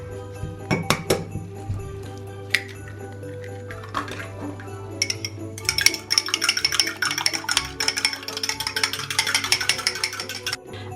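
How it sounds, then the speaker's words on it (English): Eggs whisked one at a time for a Christmas pudding, a fork or whisk clinking quickly against a bowl in scattered taps that build into a fast, dense rattling run; close up, with a low steady hum beneath and no talk. "Just going to whisk them up individually a little bit."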